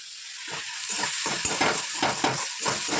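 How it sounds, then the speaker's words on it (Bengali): Spice masala for egg curry frying in a pan, a continuous sizzle broken by repeated scraping stirs at a moderate, close level. "এখন এই যে ডিমের কারিটা বানাচ্ছি দেখো মশলাটা কষাচ্ছি"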